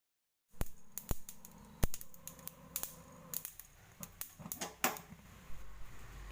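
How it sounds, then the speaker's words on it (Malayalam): Mustard seeds popping as they roast in a dry pan after fenugreek, for a mango pickle: a quick run of sharp, irregular crackles and pops, close and fairly quiet, with no talking. "ഇനി കുറച്ച് കടുക് കൂടെ വറുത്തെടുക്കണം"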